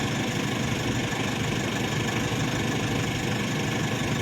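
A new Ingco portable air compressor runs continuously, a steady buzzing motor drone with a rattling vibration that stays even and fairly close with no pauses.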